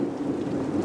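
Thunderstorm with rolling thunder and rain, a dense continuous low rumble with steady rainfall noise, no voices.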